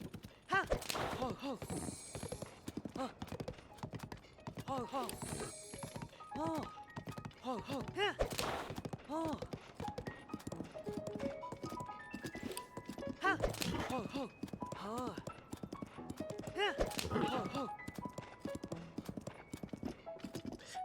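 A horse ridden along a road in Zelda: Tears of the Kingdom, with rhythmic clip-clop hoofbeats and occasional neighs throughout, while a voice talks intermittently over the game sound.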